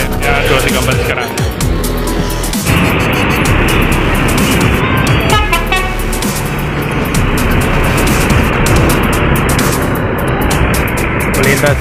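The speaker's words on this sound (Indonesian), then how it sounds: "Melintas juga Pandawa 87 PSG ya, unit special edition Mercedes-Benz Osor 500 RF." A Mercedes-Benz OH 500 RF special edition bus rolls past on an Indonesian road, its loud engine and tyre roar filling the scene continuously alongside other passing traffic, with a sharp hiss near the middle.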